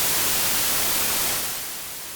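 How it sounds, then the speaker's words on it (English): A stock white noise sample plays in Ableton for a tech house track, a loud, even hiss. It fades down after about a second and a half and carries on more quietly. "Another really interesting tip that you can use for your tech house track is going to involve this white noise that we have here,"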